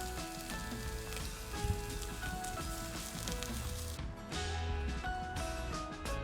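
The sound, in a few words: whole spices and chickpeas frying in oil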